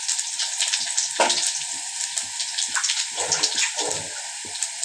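Mustard seeds, urad dal, cumin and two dried chillies crackle in hot oil for a South Indian tempering, with a bright continuous sizzle broken by repeated sharp pops and spits, close and loud.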